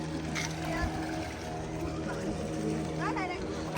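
A boat's engine drones steadily as it pulls in to shore on the Malvan coast, with a low, continuous hum and faint voices in the background.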